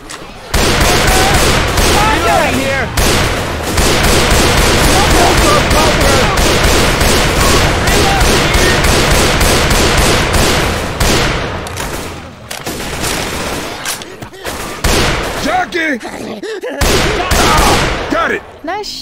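Sustained gunfire from a Left 4 Dead 2 zombie-shooter match: dense, rapid volleys of shots nearly continuous for most of the stretch, thinning near the end, with players calling out over the shooting.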